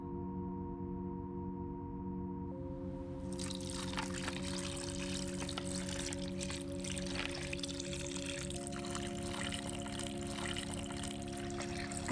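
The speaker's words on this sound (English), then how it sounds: "pour it into your serving vessel of choice. In my case, I will be using a punch bowl." Cranberry punch is poured into a punch bowl, a faint liquid trickle and splash under steady background music, continuing for several seconds.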